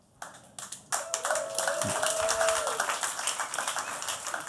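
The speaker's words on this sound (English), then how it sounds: "Wasn't looking for the applause line, but clearly an enthusiastic group" An enthusiastic audience applauds at a talk on vaping and federal cannabis decriminalization. Dense, steady clapping builds within the first second and carries on loudly to the end, with a faint tone running through the middle.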